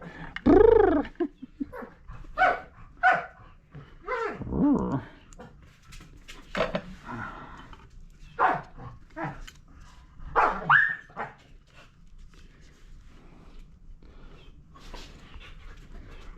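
A big dog barks in scattered bursts, whimpering and panting between them, fairly close in a workshop, while people talk intermittently.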